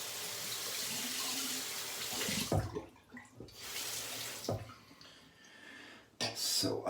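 Water runs from a tap while shaving lather is made, a steady splashing stream that is cut off and restarts in short bursts, with brief quiet pauses between them.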